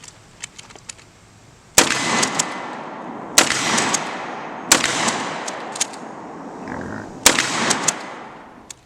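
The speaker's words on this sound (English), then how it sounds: "So let's take a couple shots of it here." A Malaysian Army Mossberg 500 pump-action shotgun firing four loud, sharp shots at spaced intervals outdoors, each blast trailing off in a long echoing decay.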